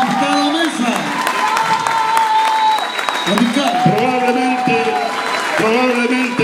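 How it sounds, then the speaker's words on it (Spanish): A crowd at a political proclamation rally in Cañete applauds, with continuous clapping and cheering mixed with voices over the noise. "Un aplauso para cada mesa."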